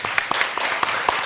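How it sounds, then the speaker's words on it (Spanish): Clapping from a conference audience thanking a panel of speakers, a brief burst of dense, even applause with a few sharper individual claps standing out. "muchas gracias a los panelistas. Un aplauso."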